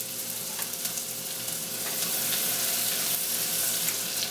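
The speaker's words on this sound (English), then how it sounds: "We're going to toss that in there and let it start to saute a little bit." Chopped white onion sautéing in melted butter in a pan, making a close, steady sizzle with soft crackle and bubbling that swells slightly louder partway through and keeps going without pause.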